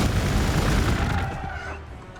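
A weapon shot in the turn-based strategy game Warhammer 40,000: Gladius, with Space Marines: a single loud, full-bodied blast that fades over about two seconds.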